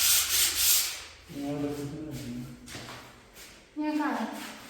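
Scrubbing during Diwali house cleaning, a rough rubbing and sanding sound in bursts of back-and-forth strokes, close by, with voices talking over and between the passes.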